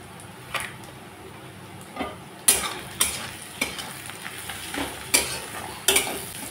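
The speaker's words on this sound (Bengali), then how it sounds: "কাঁচা লঙ্কা কুচি। এখন আমি ভালো করে ভেজে নিচ্ছি।" Chopped green chillies fry in a pan for a kachur lati and dried fish dish: a steady soft sizzle runs throughout, broken by sharp scraping stir strokes and spoon taps every second or so, close and fairly loud.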